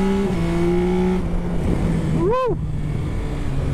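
A Yamaha Tracer 9 GT+ motorcycle engine pulls hard under throttle while cornering, a strong close drone with a quick rising rev sweep midway, as a rider briefly whoops.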